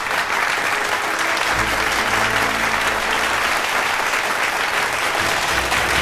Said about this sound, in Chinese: 让我们掌声有请纪明资本的创始人陆纪明先生上台领奖